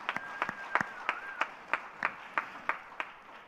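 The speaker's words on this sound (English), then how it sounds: "A huge round of applause for everyone in the top 3." Sparse, faint clapping at a Google Developer Days India 2017 conference after a quiz, about ten evenly spaced claps in a slow, steady rhythm over quiet room noise.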